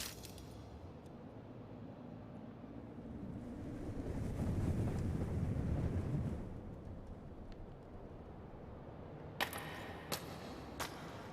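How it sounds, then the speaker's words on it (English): Wind rustles leaves in the ambience of the horror game Spirit Hunter: Death Mark, a soft, airy rush that swells in the middle and fades, followed by a few faint clicks near the end. "Only leaves rustling in the wind."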